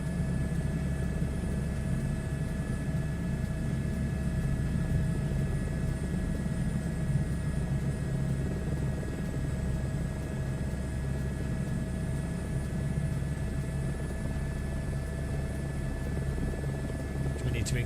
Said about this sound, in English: I think the sound of a helicopter is amazing.